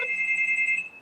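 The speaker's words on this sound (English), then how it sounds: "Or who the fuck is ringing my bell?" A doorbell or bell rings with a steady, bright electronic tone that holds for about a second, then fades. It is fairly loud and close, with no voices.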